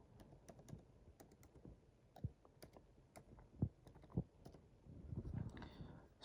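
A password typed on a computer keyboard while setting up an account: sparse, soft individual key clicks at an uneven pace, quiet and close, with no one speaking.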